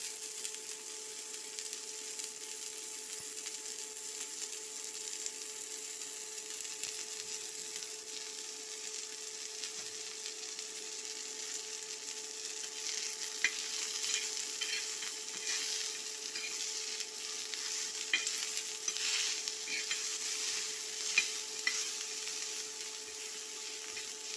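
Onions frying in a pan for a drumstick (shevga) vegetable curry, a faint steady sizzle with occasional light crackles that runs on for about twenty seconds, alone with no talk.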